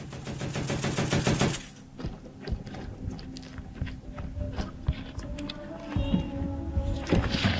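Weapons fire on a battlefield, a dense rapid burst of gunshots at first, then scattered single shots and clatter further off mixed with movement noise and rustling.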